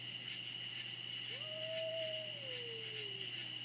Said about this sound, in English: it does sound like a cat that's got something in its mouth it's trying to kill